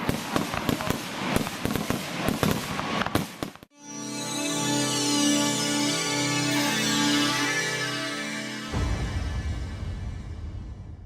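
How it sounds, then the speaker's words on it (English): Small-town fireworks display in Southern Indiana: rapid crackling firecracker bursts give way to a sustained loud whistling, hissing shower with layered tones, then a dull rumbling roar at the end. "I don't think there's a bigger fireworks anywhere."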